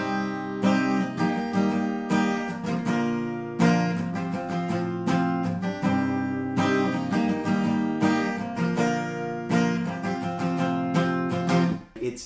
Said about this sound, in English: So altogether, the chords and the strumming should sound like this.